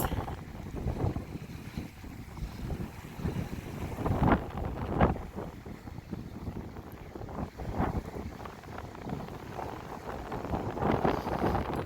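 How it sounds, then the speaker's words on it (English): Wind gusting at a lake, with buffeting rumbles against the microphone that rise and fall irregularly over faint lapping and rocking as if from a small boat, fairly quiet overall. "If the wind would die down, it would be incredibly peaceful out here."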